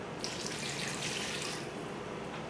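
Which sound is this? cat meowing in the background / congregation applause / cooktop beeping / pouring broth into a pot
pouring broth into a pot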